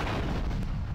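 A video game explosion in Grand Theft Auto III gives a brief, loud, rumbling boom that fills the whole short moment.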